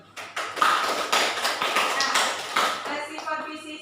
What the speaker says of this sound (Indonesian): Berikan aplaus untuk Ali